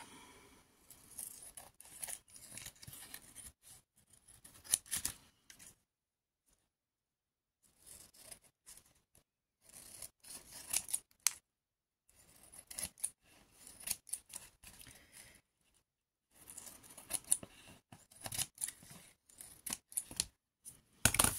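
Scissors snip away excess paper from the edge of a scrapbook card, making short bursts of crisp cutting and rubbing with brief pauses between them, close and fairly quiet, with no talking.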